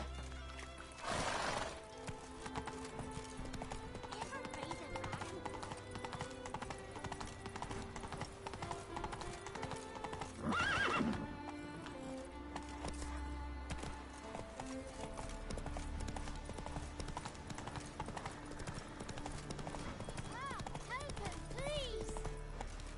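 In a video game, the horse Roach trots and gallops in a steady clip-clop rhythm of hooves with a couple of louder whinnies, beneath a voice and music.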